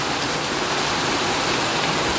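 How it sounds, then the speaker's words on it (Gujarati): Heavy monsoon rain pours outside a home in the morning, a loud, dense, unbroken hiss that stays constant throughout with no voices. "જો અમારો અત્યારે વરસાદ કેવો પડે છે"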